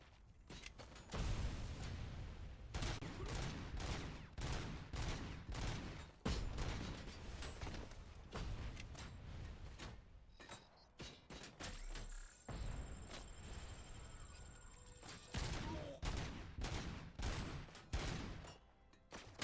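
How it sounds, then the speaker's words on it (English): Rapid gunfire and explosions from the Robocop Rogue City video game fill the scene, dense overlapping bursts of shots and blasts continuing throughout at steady intensity. "Stop throwing the grenades, relax."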